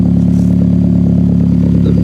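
A 2009-or-later Mitsubishi Lancer Ralliart idling with a DC Sports single exit exhaust, recorded loud and close from underneath the car, a steady low throbbing drone with a fast even pulse and no speech.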